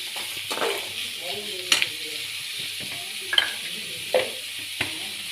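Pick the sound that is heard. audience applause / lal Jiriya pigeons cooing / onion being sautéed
onion being sautéed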